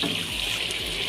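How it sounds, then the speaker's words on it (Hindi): Water poured from a measuring cup into a cooking pot for chicken pulao, a steady close splashing trickle with no talk. "पानी यहाँ पे मैं डाल रही हूँ 7 कप मेजरिंग कप के लिहाज से।"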